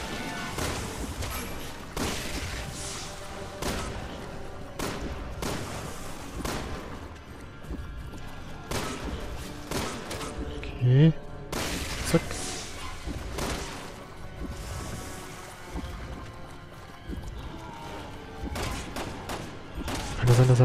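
Bursts of gunfire in Resident Evil 6 crack out irregularly over about twenty seconds, some shots sharper and louder, with someone talking between them.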